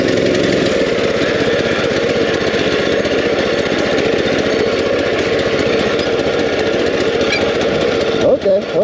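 A mini chopper motorcycle's small engine runs steadily in the cold, a loud, raspy buzzing drone held near the microphone for the whole stretch, cutting off abruptly at the end.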